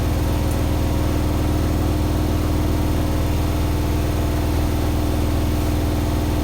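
A Hotpoint HE7L492 washing machine spins unbalanced at high speed with suds lock, giving a loud, constant droning hum with rapid rhythmic thumping throughout.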